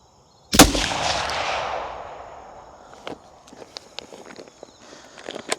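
A single loud rifle shot fired while sighting in at 100 yards for deer season, cracking sharply and rolling off in a long echoing decay, followed by faint small clicks and handling noises.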